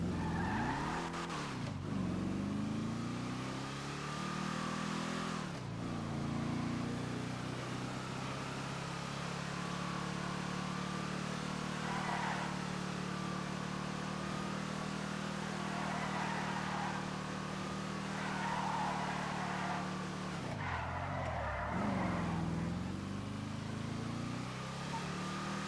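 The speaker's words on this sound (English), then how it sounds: "let's just drive this thing out. It's a muscle car." A muscle car, the Impala LX, drives in a video game: a steady, loud engine drone continues throughout, with gear-shift dips and revs near 2, 5 and 21 seconds and tire noise on top.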